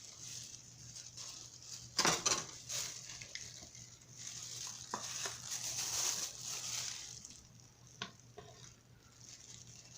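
Flour being mixed into challah bread dough in a bowl, faint soft scraping and a couple of sharper knocks of the utensil against the bowl, irregular and close, over a low steady hum with no talking.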